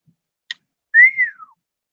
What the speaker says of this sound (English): I don't know if you heard my whistle.